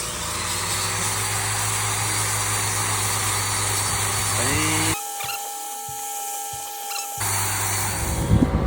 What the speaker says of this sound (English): We're scuffing up the gel coat so the glue can bond to the gel coat.